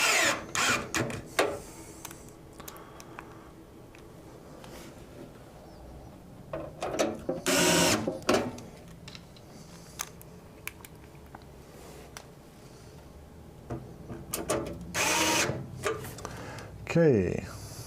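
Electric screwdriver driving screws into motherboard standoffs during a computer build, several short whirring bursts with clicks and ratcheting, close up, between stretches of a person talking.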